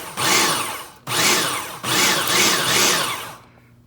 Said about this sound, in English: You're going to post until the flour is crumbly.